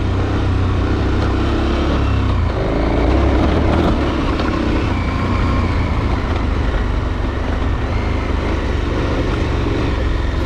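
A KTM 1290 Super Adventure R motorcycle engine drones steadily while riding off-road, a loud continuous rumble mixed with wind buffeting and road noise, with no speech.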